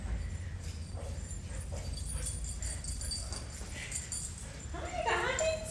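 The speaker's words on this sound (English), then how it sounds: "This is Kris's puppy companion" Remus, a dog kept as companion to Kris the cheetah at Cincinnati Zoo, lets out faint, high whimpers and yips near the end over quiet background noise.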